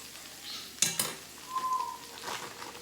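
Sweet potatoes cook in butter in a cast iron pan, giving a low sizzle. A couple of sharp utensil clanks and scraping stirs sound close by, with no talking.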